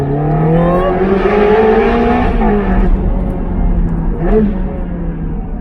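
A Ferrari Challenge Stradale engine drones loudly and steadily inside a tunnel, heard through a slightly open window, its pitch rising and then dipping as the revs change, with a brief extra surge near the end.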